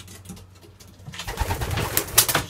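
Racing pigeons, bred for channel races, coo softly and shuffle nearby in a short burst that grows busier midway, with faint rustling and possible wing movement, no speech.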